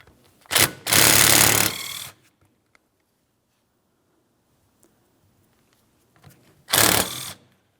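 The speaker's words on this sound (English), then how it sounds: "There's 2 15mm mounting nuts holding this in place, so let's go ahead and remove the pair." Two 15mm mounting nuts being removed from a power steering pump bracket on a 2007-2014 GMC Sierra 2500 HD, heard as two loud mechanical ratcheting bursts separated by a long quiet gap.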